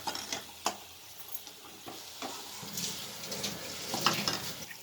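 Tamarind juice for ginger chutney simmers in a pan, with a soft bubbling and sizzling hiss, light stirring scrapes and a few sharp utensil taps against the pan, fairly faint and close.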